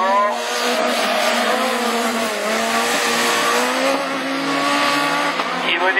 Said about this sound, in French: l'Audi A1 prend le tour joker